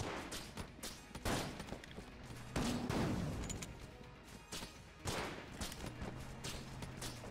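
Dense gunfire and bullet sounds from the twin-stick dungeon shooter Enter the Gungeon, with rapid overlapping shots in bursts and loud impacts swelling around the middle and again near the end.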